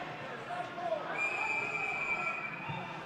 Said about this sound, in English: And now the whistle blows.